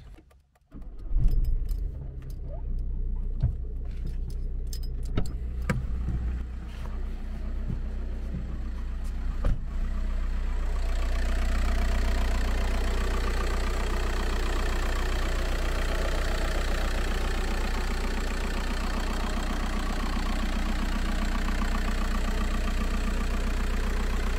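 A car engine idles steadily with a low, even hum, preceded by a few seconds of jangling keys and clicks before it settles into a constant drone.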